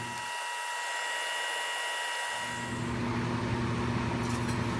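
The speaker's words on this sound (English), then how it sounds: "ready to vacuum off the PBS" A vacuum aspirator suctions PBS rinse from a cell culture flask in a lab, giving a steady whooshing hiss with faint tonal hum that grows louder and fuller partway through, heard alone without talk.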